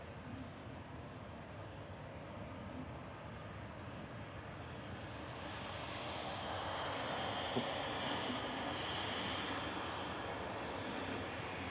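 A Ryanair Boeing 737-800 comes in to land at Manchester Airport, a faint, distant jet rumble that grows steadily louder midway through as the aircraft nears touchdown.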